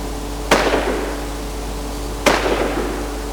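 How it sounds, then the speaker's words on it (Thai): Two sharp gunshots in the video game Infestation, about two seconds apart, each with a short ringing decay over a steady low background hum. "ก็ผมมีเสียงปืนไม่ไกลจากแถวนี้เลย"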